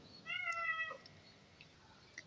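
A house cat gives a single clear, drawn-out meow at close range, followed by quiet room tone and a few faint small noises.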